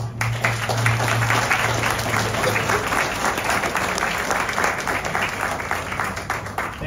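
Sustained, dense applause fills the room at a rededication ceremony for Providence Mount St. Vincent, a steady wash of many hands clapping together for several seconds with a faint murmur underneath.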